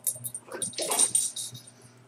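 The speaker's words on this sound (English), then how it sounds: "throw the ball for the dog so he'll stop whining" A dog whines and snuffles softly nearby, a short stretch of faint, breathy whimpering with no talking.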